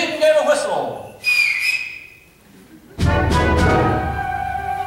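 A wind ensemble's whistle sound effect in a Christmas performance gives bright, sliding high whistles, first a rising glide, then a steady pitched tone, before the full band enters loudly with sustained chords.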